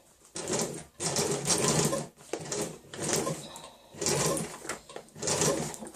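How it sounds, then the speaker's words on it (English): A sewing machine stitches a curve through fabric in several bursts of rapid mechanical whirring, pausing briefly between runs as the material is guided, close and fairly loud. "while you're sewing curve, you need to be slow in order to guide the fabric faster"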